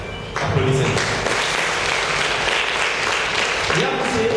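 At a school excellence-day ceremony, an audience breaks into sustained applause after a brief moment of voices, with talk faintly mixed in beneath the clapping.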